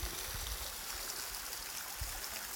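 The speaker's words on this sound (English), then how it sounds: "You may even hear the water trickling." A small waterfall at Goomoolhara Falls, reduced to a low trickle, gives a faint, steady wash of running water with soft low gurgles throughout.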